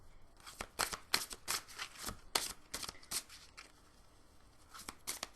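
Oracle cards for an animal totem reading are shuffled by hand in a run of quick, crisp riffling bursts, close and clear, with a short pause midway and no talking.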